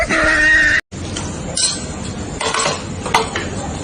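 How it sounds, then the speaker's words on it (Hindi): Dishes and utensils clatter before washing, with short, bright clinks and knocks of crockery and metal at close range, broken by a moment of silence. "बर्तन धोने जा रहा हूँ।"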